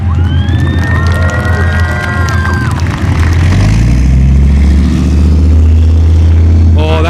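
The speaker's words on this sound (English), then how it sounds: "Hear that engine? See how it takes that corner so much faster than the M60?" A Leopard 1 main battle tank drives past at a museum demonstration, its engine a loud, deep rumble that grows heavier and closer, with a cheering crowd and whistles over it early on.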